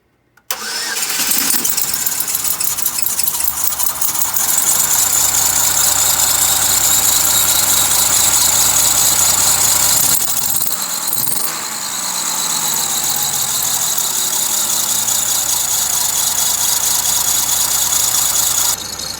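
A demolition derby car engine cranks and catches, then settles into a loud, steady idle with a thin, high belt squeak running continuously above it.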